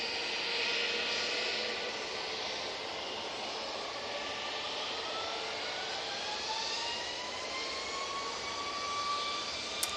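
An airliner arriving from Atlanta passes at a distance with a soft, steady jet whine and a slowly shifting pitch, faint and continuous with no voices.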